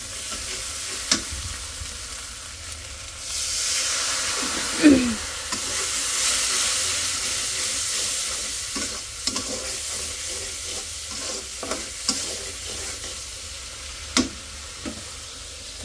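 Fish and potatoes sizzle while being sautéed in a pan, a soft steady frying hiss broken by scattered clinks and scrapes of stirring, close by and with no talk.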